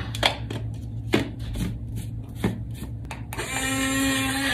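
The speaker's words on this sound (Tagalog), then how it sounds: "Mixmaster blender yung ginamit ko" A Mixmaster blender whirs up to full speed after a few clattering knocks, its high motor whine running steadily to the end.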